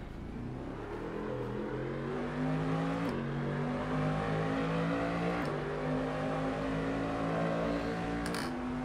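A car engine revs hard in a racing video game, a steady, rough mid-pitched drone that climbs in pitch, drops back at each gear change, and climbs again, loud and continuous with no talking.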